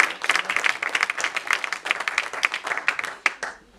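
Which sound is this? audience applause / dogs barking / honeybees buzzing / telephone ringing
audience applause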